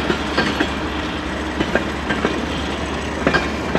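A CN freight train passes close by, its wheels clacking steadily over rail joints with a regular rhythm beneath a continuous low rumble.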